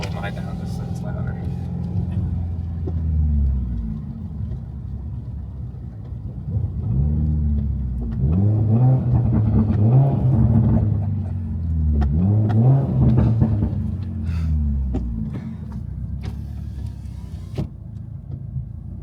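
A 2019 Subaru WRX with a manual gearbox rumbles at idle with the window down, then revs and accelerates in rising and falling surges, loud and close, while people talk over it.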